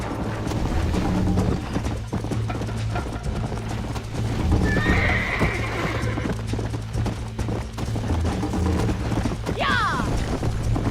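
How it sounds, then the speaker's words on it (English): Horses gallop in Red Dead Redemption with rapid, steady clip-clop hoofbeats throughout, while two sharp whinnies and neighs ring out, one midway and one near the end, over a low rumbling game backdrop. "I think you chose the wrong horse, Miss McFarland"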